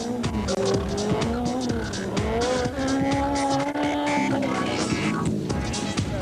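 A Toyota Corolla rally car driven hard at the 2000 Sasol Rally, loud and close, its engine note climbing and dropping through the gears with tyre squeal and skidding throughout.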